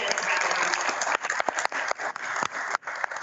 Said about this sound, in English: So, if we could give a round of applause to Mr. Gillen.